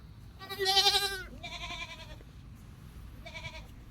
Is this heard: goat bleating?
yes